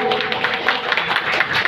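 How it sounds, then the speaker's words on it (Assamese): An audience claps in applause at a ceremony honouring a commissioner, a dense, steady patter of many hands close by that lasts through the whole moment without a break. "হাত চাপৰি দিব"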